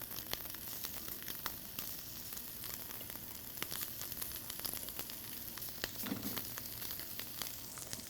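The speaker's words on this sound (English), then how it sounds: "when you add your shrimp, you should hear that nice sizzle pretty quickly" Shrimp sizzle in a hot pan, a steady crackling hiss throughout with scattered pops, fairly quiet and without talk.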